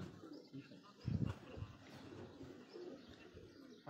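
Silver flying pigeons coo on a rooftop loft, soft low burbling calls with a brief louder burst near the start, set against steady outdoor background noise.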